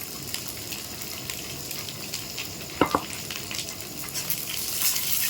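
Onion, curry leaves and green chili sizzle steadily in hot oil in a pan, with a couple of sharp clatters partway through and the hiss growing slightly toward the end.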